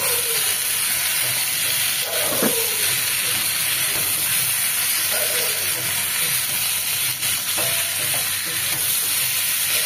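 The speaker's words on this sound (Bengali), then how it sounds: "পটলটা বেশ ভাজা ভাজা হওয়ার পরে এখন আমি চিংড়িগুলো দিয়ে দিলাম" Prawns and pointed gourd fry in oil in a pan with a loud, steady sizzle and hiss, broken by occasional scraping stirs.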